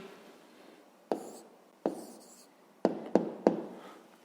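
A pen scratches out a math answer on paper in steady strokes, broken by several sharp taps as it touches down, close and fairly quiet.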